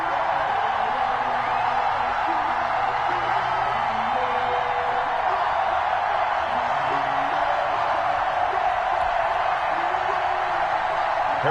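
Large crowd at an NFL game in Baltimore cheering as the Ravens and Kansas City Chiefs come out of their tunnels, a steady, dense roar of voices with scattered whoops that holds at an even level throughout.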